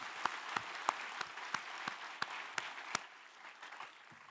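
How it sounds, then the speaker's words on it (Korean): Sparse applause from a small group at a New Year's Eve church service, with separate sharp claps standing out in an uneven rhythm that thins out toward the end, fairly quiet and at a distance. "영광의 박수를 하나님께 드리겠습니다."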